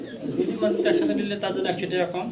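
Female Shirtin and Fantail pigeons coo softly in a low, rolling murmur that continues under someone talking nearby.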